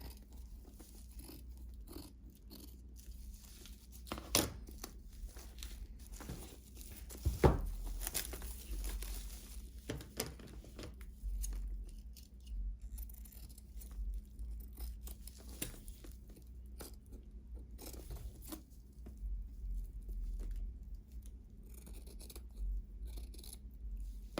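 Sharp scissors snip through fabric on a doll in a quiet room, with scattered soft crunchy cuts and clicks spread irregularly across a long stretch, one or two louder snips standing out.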